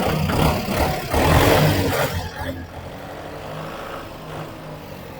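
A 2020 Kubota MU5702 tractor's diesel engine runs steadily nearby, louder and rougher at first, then settling into a smooth, even idle.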